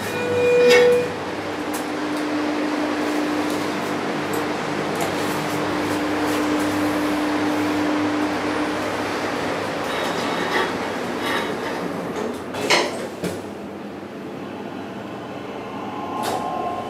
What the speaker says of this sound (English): do a cab view here so we can hear the motor going up